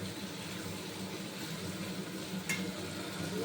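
Soya chunks and potatoes fry in a pan with a steady, close sizzle, and one brief scrape of stirring cuts through midway.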